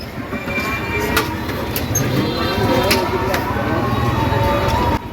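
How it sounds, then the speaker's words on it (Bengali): Fast vehicles rush past close beside a roadside street-food stall on a busy Chakaria route in the Chittagong–Cox's Bazar region, making a loud, continuous roar with faint voices beneath it. "একদম পাশ দিয়ে গাড়ি জোরে জোরে যাচ্ছে"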